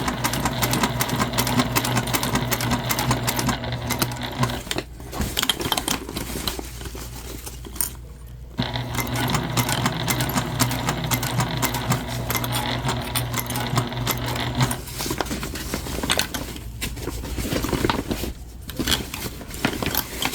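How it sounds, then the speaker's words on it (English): A sewing machine stitching around a convertible bag, running in fast steady bursts with short pauses while the fabric is repositioned, close and loud, with no talking. "And we are stitching all the way around here."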